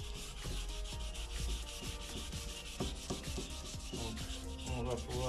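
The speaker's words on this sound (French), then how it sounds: "Donc un ponçage fin au 400." A car headlight is wet-sanded with fine 400 grit paper, producing a continuous close rubbing and scratching with repeated back-and-forth strokes at a steady level throughout.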